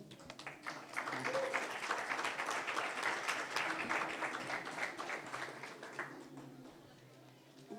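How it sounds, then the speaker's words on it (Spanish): Audience applause at a marijuana ethics and rights debate in Mexico, a steady wash of clapping for about six seconds that fades toward the end, with some voices mixed in. "le pido un aplauso, por favor"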